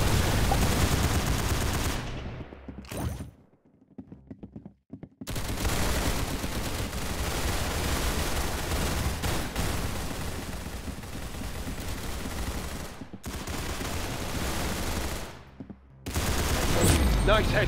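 Gunfire in the Roblox-style shooter Arsenal, dense bursts of rapid automatic shots that fill most of the stretch, broken by a couple of brief silent gaps, loud and close.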